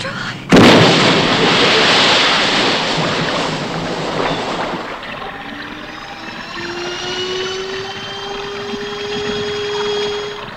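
A sudden loud blast bursts in, followed by a sustained roaring rumble that slowly fades, with a rising whine emerging toward the end, from a TV series episode about a sea of oil.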